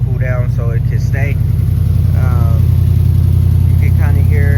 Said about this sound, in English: You can kind of hear the exhaust